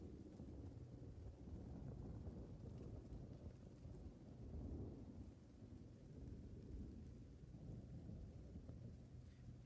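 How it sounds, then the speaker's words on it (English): A faint thunderstorm plays in the background, with low rolling thunder and steady rain hiss that swells and eases throughout. "Now it's a thunderstorm."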